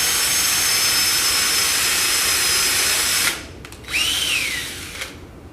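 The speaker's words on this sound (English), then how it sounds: "So when you're pre-drilling, you'll feel the first layer give" Power drill boring through the layers of a door mull frame, a loud steady whine that cuts off abruptly partway through, followed by a brief second burst and a spin-down.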